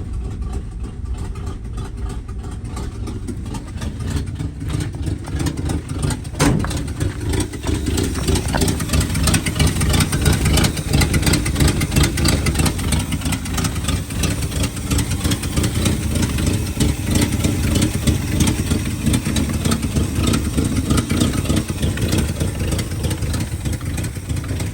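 A 1972 Chevrolet C20 farm truck engine idles with exhaust leaks, a steady low rumble carrying a ticking, puffing rasp, close and continuous with a slight surge early on.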